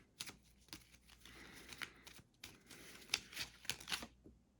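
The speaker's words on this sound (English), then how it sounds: "Give it a good shuffle." Incan Gold board game cards are shuffled by hand in a run of quick, crisp riffles and flicks, close and fairly quiet, with no talking.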